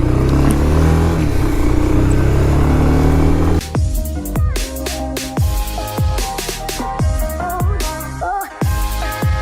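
A 2021 Bajaj Pulsar 220F BS6 motorcycle is ridden, starting with a steady loud engine drone, then revving through repeated throttle rises and gear changes with strong wind buffeting close to the mic.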